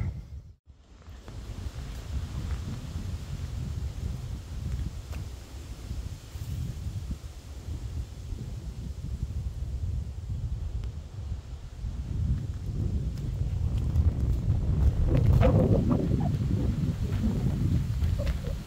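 Strong wind blows hard outdoors and buffets the microphone with a constant loud roar, swelling near the end.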